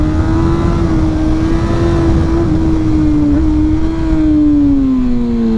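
Kawasaki ZX-6R sport motorcycle engine at high revs: a loud, sustained, buzzing wail held nearly steady with slight dips in pitch and constant wind rush, very close, with no talking.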